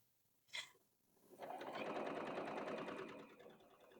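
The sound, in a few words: sewing machine sewing sweatshirt sleeve pieces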